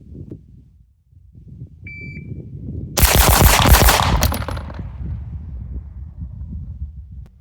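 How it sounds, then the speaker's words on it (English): Rapid string of shots from a Masterpiece Arms DS9 Open pistol, fired close and loud in a quick burst of about six over roughly a second and a half, with a ringing tail after. "Now I've got 6 rounds of that same stuff in the Masterpiece Arms DS9 Open"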